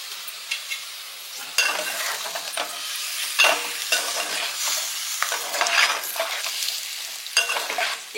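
Green chillies frying in a pan with curry leaves beside a small egg fry crackle and sizzle under repeated, close stirring scrapes that come in uneven bursts, loud and clear with no voices.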